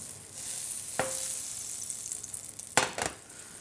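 Knobs of butter sizzle and crackle in a hot frying pan as they are swirled around for pan-frying hake, a soft continuous hiss with a couple of sharper clatters from the pan, no voices.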